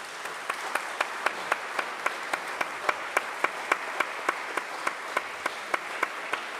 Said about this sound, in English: can we give these young men a round of applause, please?